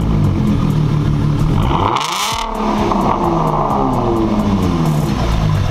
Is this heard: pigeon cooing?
no